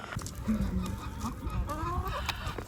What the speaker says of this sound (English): look at all these chickies